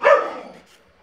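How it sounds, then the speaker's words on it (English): A dog lets out one short, loud bark close by that quickly trails off, with nothing else around it. "And there goes the dog again."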